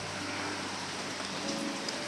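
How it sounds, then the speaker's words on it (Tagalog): Very heavy rain pouring down steadily at night near a house, a dense continuous hiss of drops with faint patters on surfaces and no voices. "Sobrang lakas ng ulan."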